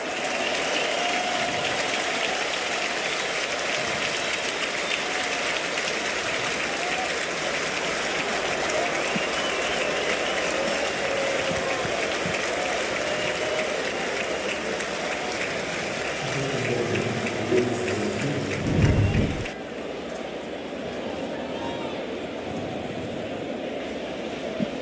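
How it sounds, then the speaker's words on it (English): Loud, sustained cheering and applause from a packed baseball stadium crowd during an Angels–Yankees game, a steady roar lasting throughout with a brief swell near the end. "And listen to this crowd."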